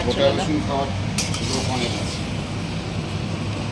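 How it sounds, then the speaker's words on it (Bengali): Mutton being braised and stirred in a pot, with clinking and scraping of a metal spoon against the pot under continuous nearby talk and a low background hum. "এই যে মাটন কষা চলছে এখন কষানো চলছে"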